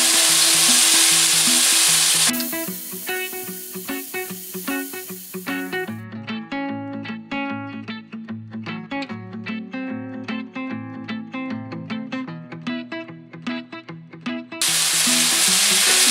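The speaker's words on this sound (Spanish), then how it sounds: "le vamos a poner su cebolla para que también se dé una buena salteadita aquí." Onion and vegetables sauté in a pan for a Mexican shrimp broth, giving a steady loud sizzle and frying crackle with stirring clatters throughout, starting and ending with brief bursts of hiss.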